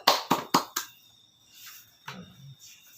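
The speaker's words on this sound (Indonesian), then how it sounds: "Tepuk tangan dulu untuk kita Bu" During a talk on good nutrition for breastfeeding mothers, four sharp, close hand claps ring out in quick, even succession, followed by near silence with faint scattered sounds and a brief low murmur.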